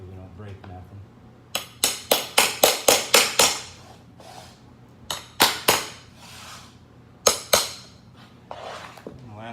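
A hammer strikes a pulling tool on laminate flooring in sharp metallic bursts, fast runs of seven or so blows followed by shorter groups, close and loud, with a person talking briefly.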